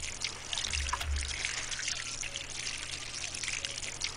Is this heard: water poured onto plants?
yes